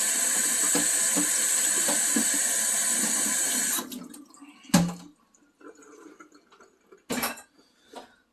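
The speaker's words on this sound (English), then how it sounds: "Just a little bit of water in there for that much lentils." Tap water runs in a steady, close rush for about four seconds as it is poured over lentils in a pot, then stops, leaving a few faint drips and soft clanks of the pot.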